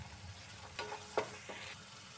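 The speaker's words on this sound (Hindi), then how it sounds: "अभी हमको अच्छे से मसाला को भूनना है" Tomato and sabzi masala fry in a pan for a lentil vegetable dish, a soft continuous sizzle broken by a few quick spoon scrapes and knocks, quiet and close with no voices.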